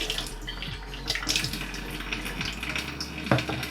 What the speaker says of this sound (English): I'll just whack the tap on, give that a bit of a rinse.